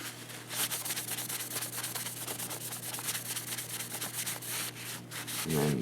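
A Rolls Razor blade is honed on an oiled stone, a close continuous gritty rubbing with quick repeated back-and-forth strokes throughout, a steady low hum beneath and no voices.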